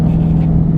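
A C5 Corvette with a manual gearbox idles low and steady at under 2,500 RPM in a parking lot, a loud continuous engine drone with no talking over it.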